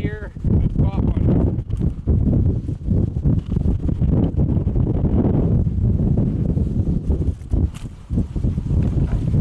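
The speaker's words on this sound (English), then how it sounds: "it's pretty damn windy right now" Strong wind buffets the microphone outdoors at a beaver trapping set, a loud continuous roar with gusty rustling throughout while someone talks over it.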